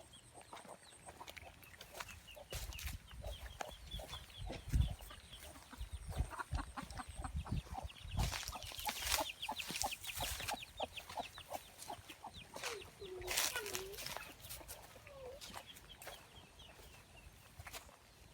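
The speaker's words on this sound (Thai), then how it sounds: "เป็ดใหญ่ค่ะ" Large ducks calling and clucking outdoors in a garden in the morning, with overlapping honks and squawks, wing flaps, and a busy, steady chorus of birds nearby.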